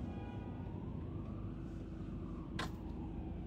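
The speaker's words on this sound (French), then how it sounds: "Sirène hurlante avec un camion." A siren wails from a passing truck on a road, heard at a distance over steady low traffic rumble, rising slowly and then fading.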